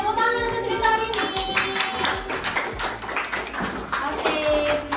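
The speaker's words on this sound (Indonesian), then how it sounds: "Oke, tepuk tangan untuk cerita ini." A classroom group claps after a story about Caliph Umar in an Islamic education lesson. Scattered hand claps ripple for a few seconds, mixed with tonal voices or music.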